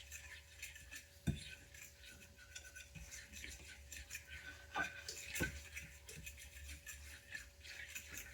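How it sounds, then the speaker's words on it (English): A utensil stirs a squash casserole mixture in a dish, with faint, irregular scraping and clinking strokes and a few sharper knocks against the dish. "Mix it up."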